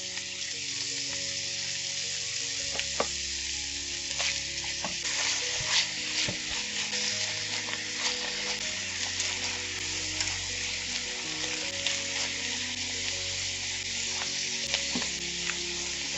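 Ginger, pepper, tomatoes and eggs frying together in a pan, a steady close sizzle under repeated clicks and scrapes of a spatula, with no voices over it.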